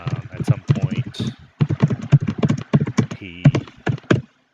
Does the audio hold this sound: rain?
no